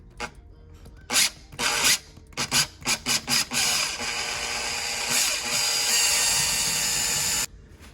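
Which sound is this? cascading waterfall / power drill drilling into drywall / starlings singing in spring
power drill drilling into drywall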